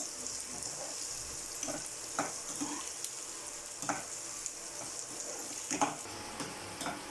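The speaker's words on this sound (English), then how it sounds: "See, here I am frying these onions" Onions and chillies crackle and sizzle steadily in a hot pan, a constant bright frying hiss broken by scattered sharper pops and stirring clicks.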